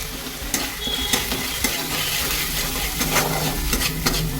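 Spices and turmeric frying in oil in a pan for a mild vegetarian vegetable curry, a steady close sizzle with scattered sharp clinks and scrapes of stirring, no talk.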